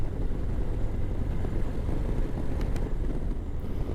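Harley-Davidson Low Rider ST motorcycle cruising in sixth gear on a highway, a steady low engine drone mixed with dense wind rush that stays constant throughout, with no talking.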